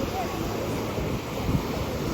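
Sea waves rush onto Calangute beach in Goa as a continuous low roar of surf mixed with gusting wind buffeting the microphone, while someone talks over it.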